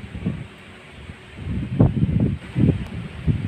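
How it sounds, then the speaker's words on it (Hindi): Strong, cool wind gusts outdoors, buffeting the microphone in uneven low rumbling bursts with no voices. "ठंडी ठंडी हवाएं चल रही हैं, देख सकते हैं बहुत तेज़ हवा है।"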